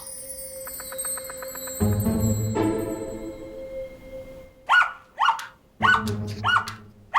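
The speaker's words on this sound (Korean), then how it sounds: "이렇게 잘 짖을 줄 알면서 그동안 한 번을 안 짖었어?" A dog gives four loud, sharp barks, close and in quick succession. Before the barks, electronic tones and a low hum fill the background.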